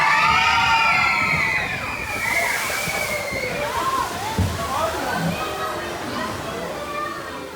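A Pirates of the Caribbean ride boat at Magic Kingdom drops down a 14-foot waterfall, giving a loud whoosh and sloshing splash that settles into rushing water, with riders' voices and shrieks mixed in.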